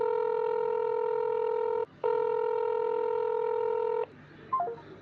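Telephone tones sound when calling a police station's listed number: two long steady beeps separated by a brief gap, then a short falling electronic tone, heard close on a phone line with no voice.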